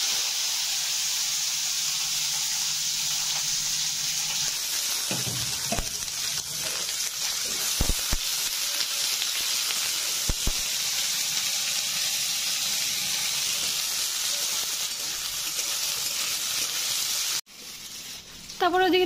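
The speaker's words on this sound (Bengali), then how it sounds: "ওই তেলের মধ্যে এখন ক্যাপসিকামগুলো ধুয়ে দিয়ে দিচ্ছি" Washed capsicum pieces hit hot oil left over from frying paneer and sizzle and hiss steadily in a pan, with a few sharp clatters of utensils and a sudden change near the end.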